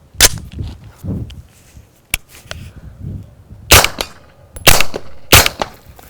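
Suppressed gunshots from a Noveske rifle fitted with a Rugged Obsidian 9 suppressor, fired outdoors: sharp isolated reports at irregular intervals, a single shot early on followed by a tighter cluster of three or four near the end, close and loud.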